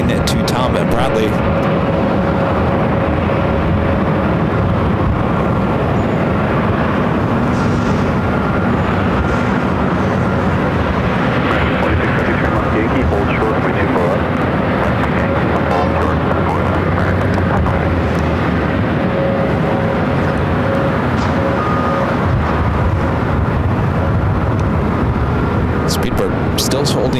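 A Lufthansa Boeing 747 taxis at LAX toward the Tom Bradley terminal, its jet engines a loud continuous roar and whine heard up close, with people talking over it throughout.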